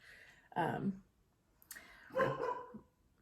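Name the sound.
dog barking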